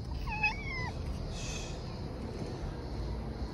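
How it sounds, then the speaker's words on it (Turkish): A cat gives one short, rising-then-falling meow near the start, then goes quiet against a steady low room hum. "Güzel kedi."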